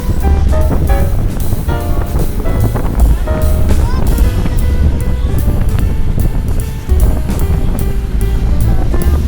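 A tour boat full of people moves along the fast-flowing Rhine river below Rhine Falls, with a loud steady rumble of rushing water and wind buffeting the microphone, and faint scattered voices in the mix.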